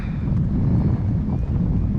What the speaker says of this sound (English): with wind like that